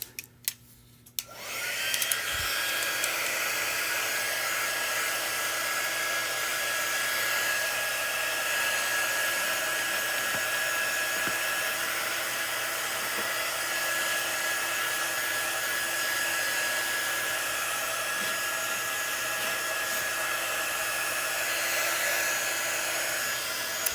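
Hair dryer blowing on wet craft glue on a photo holder, switching on after a brief moment and then running as a loud, steady, unbroken whoosh for over twenty seconds, close and without talk.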